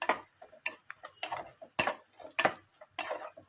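Salt being stirred into an egg masala curry in a pan, with a series of sharp spoon-on-pan clinks and scraping strokes in an irregular rhythm, close and fairly loud, with no talking.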